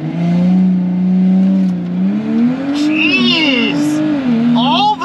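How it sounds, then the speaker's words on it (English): A drag-strip car with an aftermarket IE downpipe and midpipe and a stock rear exhaust drones loudly at close range. Its engine pitch climbs and wavers while a voice talks over it. "You can really hear the IE downpipe and the IE midpipe sounding so good versus the OEM exhaust."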